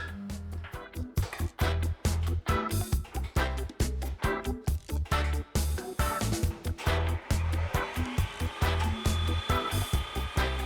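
The spindle of a Maho 400E CNC mill runs and shifts speed, giving a rapid chain of close mechanical pulses, with a whining tone rising near the end.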